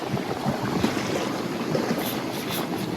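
Strong wind buffets a sailboat running with the main and light-wind sail up, a steady loud roar of wind noise and rushing water filling the whole stretch without pause.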